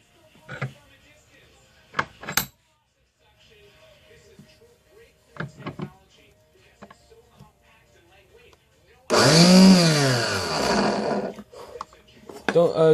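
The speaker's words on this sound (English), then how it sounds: "you can put this in the grinder." A knife put to a grinder, which starts with an abrupt loud, harsh whine and scraping roar near the end, following several seconds of sparse handling clunks and clicks; a voice talks early on.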